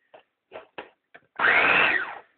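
A multifunctional kitchen mini food processor whirs up into a steady motor hum for about a second after a few sharp clicks of handling, then winds down, close and fairly loud.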